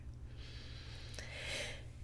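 A single close, soft inhaling breath during meditation rises into an audible airy intake, with no speech over it.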